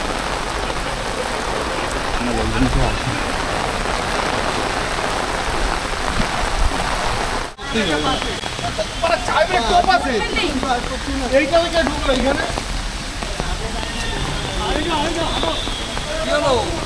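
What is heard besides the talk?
heavy rain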